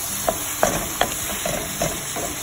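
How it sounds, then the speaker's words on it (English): Onion and tomato sauteing in a pan, a steady soft sizzle with a few sharp scrapes and taps of a utensil stirring, close and alone with no talk. "I'm going to saute that so the tomato gets a little soft"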